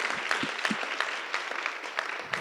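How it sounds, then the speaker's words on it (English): Audience applause at a leadership forum and awards celebration, a steady wash of many hands clapping throughout, moderately loud and sustained with no talking over it. "Another round of applause."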